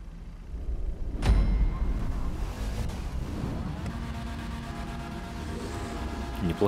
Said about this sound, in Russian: Неплохой этот звук машины.